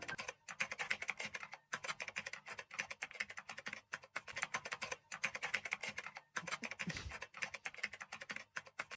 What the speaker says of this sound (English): you typing way too fast